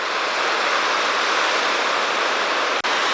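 Constant broadband wash of Baltic Sea surf breaking on the shore on a choppy spring day, steady and close, with one brief dropout near the end.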